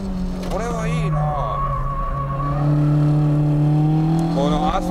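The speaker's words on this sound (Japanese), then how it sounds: "エンジンもね、全然あのレスポンスしてくるしね、どっからでも来るしね、音もいいしね" A Toyota AE86 engine revs and pulls while driving, its tone rising and falling with the throttle beneath someone talking over the engine.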